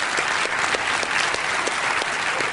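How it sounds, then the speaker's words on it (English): An audience claps steadily and warmly at a Nintendo 3DS presentation in Amsterdam, dense and even throughout with no voices over it. "So please grant a warm applause to Mr."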